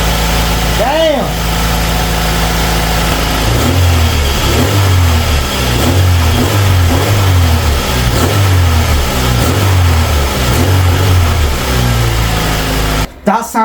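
Honda Integra with a B18C engine idling close by, then revved in a steady series of about eight evenly spaced blips, each rising and falling, before cutting off abruptly.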